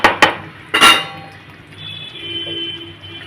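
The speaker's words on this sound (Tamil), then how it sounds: "இதை அஞ்சு நிமிஷம் ஒரு மூடி வைப்போம்" Metal lid set onto a pot of brinjal and sesame gravy, giving a couple of sharp clinks followed by a louder clatter, then a low simmering hum from the pot.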